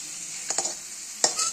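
Fish slides into a hot pan of oil with black cumin, turmeric, beans and potato, setting off a few short, sharp sizzling bursts over faint quiet crackle.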